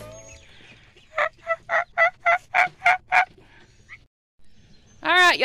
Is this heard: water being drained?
no